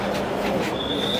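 A metro train in Bangladesh rolls into a station with a steady rumbling roar, joined near the end by a thin, high wheel squeal.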